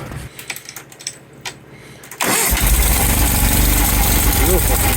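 A Case-mounted Onan B series engine with a newly replaced starter cranks and fires up abruptly, then settles into a loud, steady, close idle that runs without a break after a brief quiet stretch of faint handling noise.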